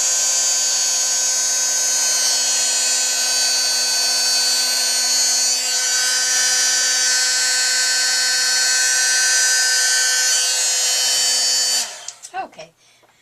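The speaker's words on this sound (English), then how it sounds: "I have to hit that one again with the heat gun" Heat gun melting embossing powder for card-making, a loud, steady high-pitched blowing whine that holds for about twelve seconds before switching off with a few faint clunks.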